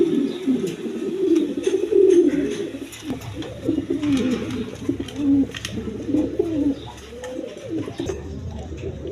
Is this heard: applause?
no